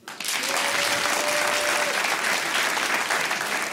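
Audience at a live comedy show in Lille breaks into loud, sustained applause that starts abruptly and keeps a steady dense roar of clapping for several seconds.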